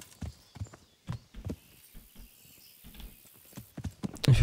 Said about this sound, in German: wir haben uns jetzt ein Pferd besorgt.